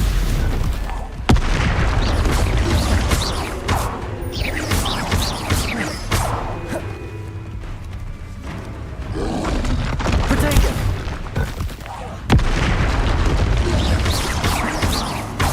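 Spell combat in Hogwarts Legacy with fiery Confringo blasts, loud booming explosions and crashing impacts going off in rapid succession over a roaring battle din, with a voice calling out spell names throughout.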